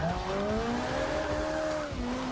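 A Ferrari F430 Scuderia in a racing video game slides sideways in a drift, its tires squealing in long, steady, bending tones over the continuous engine roar, loud and close throughout.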